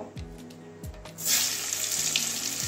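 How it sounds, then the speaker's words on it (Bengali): Potatoes drop into hot oil and a bright, close sizzle swells up and holds steady, after a few soft knocks of the pan and utensil. "এবারে আলুটাও একটু ভেজে নেব"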